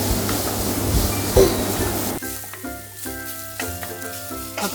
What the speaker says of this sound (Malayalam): ഉപ്പും ചേർത്ത് നന്നായിട്ട് നമുക്ക് വഴറ്റിയെടുക്കാം.